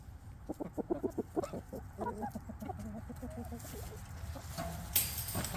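Chickens cluck in a rapid series of soft, close calls, trailing into quieter murmuring clucks with a faint rustle near the end.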